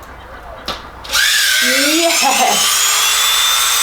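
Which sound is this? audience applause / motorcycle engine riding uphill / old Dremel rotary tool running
old Dremel rotary tool running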